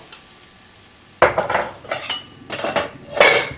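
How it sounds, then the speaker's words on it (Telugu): A spoon stirs ginger garlic paste into cauliflower curry in a pan. It starts near silent, then loud metallic scraping and clanking strokes come in bursts, close up, with a faint sizzle underneath and no speech. "ఇప్పుడు ఒకసారి బాగా కలుపుకోవాలి"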